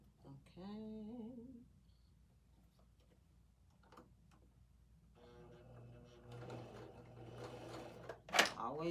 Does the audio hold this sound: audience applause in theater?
no